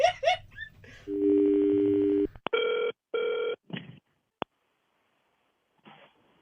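An old-style telephone bell rings in a long burst during a radio prank call show, followed by short electronic tones and clicks, with brief voices at the start.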